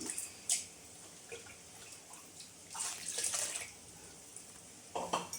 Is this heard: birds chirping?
no